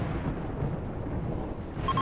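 Thunder from a flash storm in the colony game RimWorld, a steady low rolling rumble mixed with rain hiss, loud and continuous throughout, with no voices.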